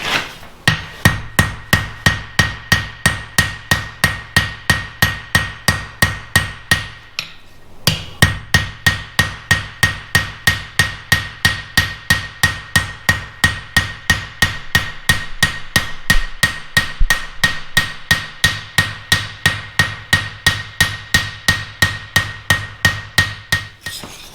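Rhythmic hammer blows ringing on hot metal at a forge, loud and close, repeated steadily about three times a second with one brief pause partway through.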